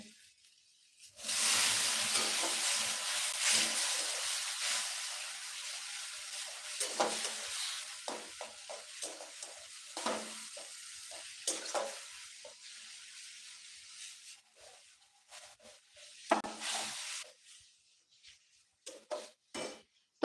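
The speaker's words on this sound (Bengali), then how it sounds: "ছানার জল দিয়ে দিয়ে এখন মশলাটা কষিয়ে নেবো" Spice masala sizzles loudly in a pan as chhena whey is added, a steady frying hiss with the scrape and clink of a spoon stirring, the sizzle gradually easing toward the end.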